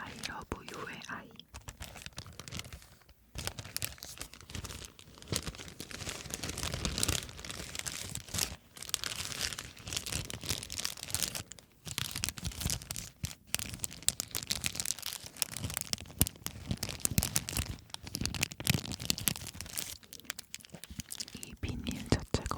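Very soft, pliable plastic vinyl crinkles and rustles close up in a long, continuous stream, with gentle crackles and pauses, under close, quiet whispering.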